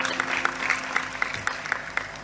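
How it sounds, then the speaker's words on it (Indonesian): An audience at a Cak Nun gathering claps for Kurniawan, a steady burst of many hands applauding together, moderately loud and continuous. "tepuk tangan untuk Kurniawan"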